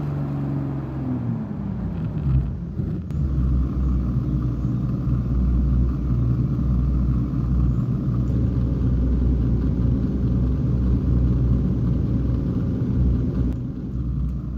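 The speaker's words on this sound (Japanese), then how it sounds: "まずはアイドリング音から聞いてみたいと思います。" A Pagani Huayra with a Mercedes-AMG V12 idling in the Gran Turismo 7 racing game, a steady deep engine rumble that holds evenly throughout, with a faint rising tone early on and no talking.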